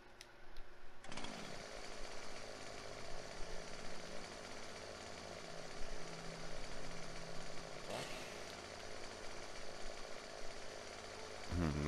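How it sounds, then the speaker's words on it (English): A chainsaw in Farming Simulator 17 cuts a Christmas tree: a steady buzzing motor drone runs throughout, loud and continuous, with a brief sharp surge near the middle and again at the end. "Let's buy a chainsaw real quick to see if you can cut it."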